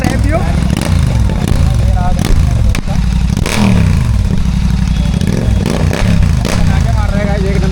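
A GT 650 motorcycle with a Red Rooster aftermarket exhaust and BMC air filter revs repeatedly, with several rising and falling sweeps of engine pitch close by and loud, while voices talk over the engine noise throughout.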